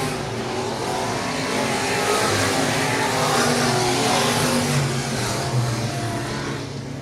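Sport modified race cars racing at Raceway Park, a loud continuous roar of engines as a pack passes, rising and easing slightly, with no voices.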